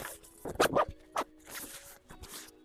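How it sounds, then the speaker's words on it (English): A zipper on a packed travel bag is pulled closed in several quick, rasping bursts. The sound is close, with short pauses between pulls and some soft fabric rustling around them. "I'm going to zip this all up."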